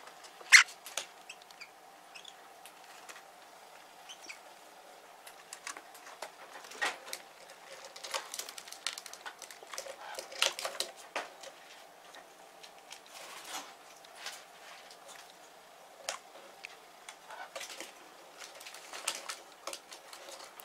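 Small chirps from a white Java sparrow asking for food, brief scattered calls in a quiet room, faint and close.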